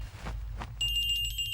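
A telephone starts ringing partway through, a steady bright electronic trill in a film comedy scene, loud and continuous over low room rumble after a couple of soft thumps.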